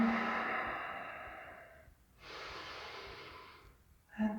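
Deep yoga breaths during a full-body stretch: a long, slow breath that fades out, a brief pause, then a second long breath and the start of a third, close and quiet.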